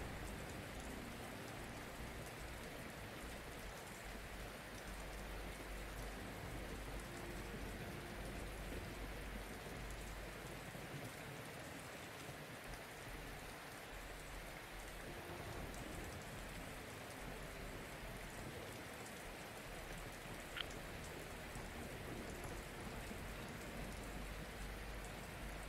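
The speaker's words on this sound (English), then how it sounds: "Ah, the rain sounds are nice, though." Steady rain falling outdoors, a dense, even hiss of drops on surfaces that continues without pause, with no voices.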